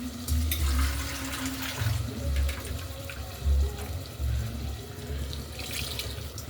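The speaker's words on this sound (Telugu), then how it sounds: "సరిపడగా వాటర్ వేసుకోవడం అండి." Water runs and splashes into a cooking pot of mutton boti fry in uneven gushes, fairly close and soft, with no one speaking.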